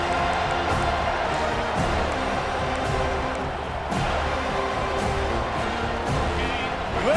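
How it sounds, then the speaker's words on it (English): Huge college football stadium crowd at a Clemson versus Florida State game, a sustained loud roar of cheering and noise filling the whole stretch, with a commentator's voice faintly beneath. "Listen to this crowd just shaking the girders of this place, trying to help their defense"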